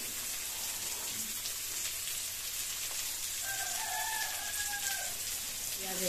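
Onions frying in a pan for cauliflower prawn biryani, a steady, fairly quiet hissing sizzle throughout with faint tonal sounds in the background.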